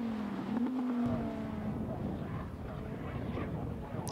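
A heavily modified home-built Ford Focus race car passes on a saloon racing circuit, its engine note whining and shifting in pitch as it goes by, moderately loud beneath a commentator's voice.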